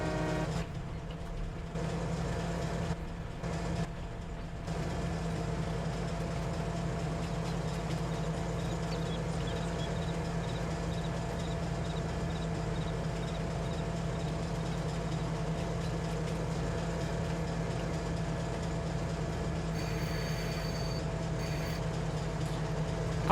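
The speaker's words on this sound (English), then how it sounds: "I'm a fireman driving the train." A train locomotive runs in the farming video game Farming Simulator 22 with a steady, droning engine hum and low rumble. It holds an even level throughout, with a couple of brief dips near the start.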